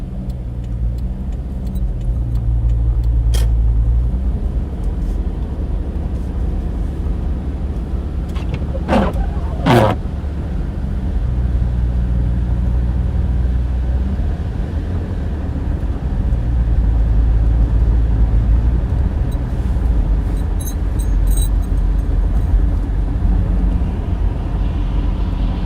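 Steady highway traffic on snowy I-94 East toward Detroit, with trucks rolling past: a continuous loud road and tire roar, with a couple of brief sharper passes midway and no talking.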